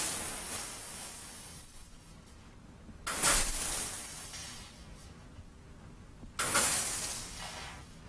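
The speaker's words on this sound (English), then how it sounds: "Spray the steam away and use that heat to just heat up the color sol." A steam spotting gun sprays onto stained fabric at a stain-removal board, giving two sharp, loud hissing bursts about three seconds apart over a steady background hiss.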